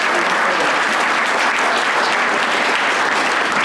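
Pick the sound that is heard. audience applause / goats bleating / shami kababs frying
audience applause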